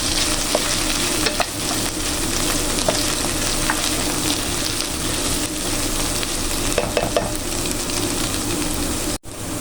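Potatoes fry in a pan with a dense, steady sizzle, loud and close, broken by occasional light scrapes and taps of stirring, with no talking.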